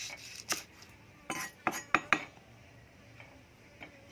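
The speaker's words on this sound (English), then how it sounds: "Then cut the chili" A knife chops a chili on a board in a home kitchen: a handful of sharp, close taps, with a quick cluster of three or four in the middle, then quiet.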